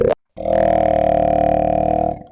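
Human voice pitched down into a dark neuro growl bass: a short vocal blip, a brief gap, then a sustained, buzzy, gritty low drone for about two seconds before it cuts off.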